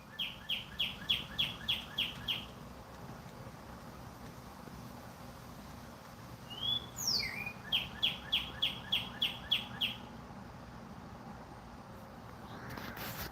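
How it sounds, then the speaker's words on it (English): Birds chirp outdoors in Texas: two bursts of quick repeated high tweets, fairly faint and at a middle distance, over a low hiss of wind, with a brief odd call between the bursts. "Yeah, the birds are happy over here in Texas."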